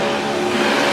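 A burnout car at Red CentreNATS in Australia screams at high, steady revs, a loud continuous engine roar with wheels spinning on old rear tyres.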